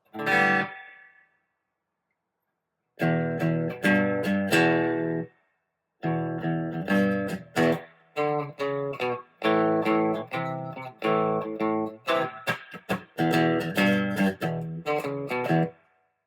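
Electric guitar plays a run of picked notes and chords through a wet, echoing spring reverb from a TC Electronic Ampworx Combo Deluxe 65 preamp pedal, with short pauses between phrases.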